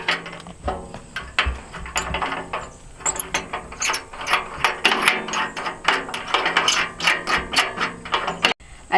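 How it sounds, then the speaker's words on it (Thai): A nut is turned and tightened with a ratchet at a charcoal and wood-vinegar kiln, giving loud, close bursts of rapid clicking that repeat in quick strokes with brief pauses between them. "นี่น็อต หมุนเสียเข้าไป"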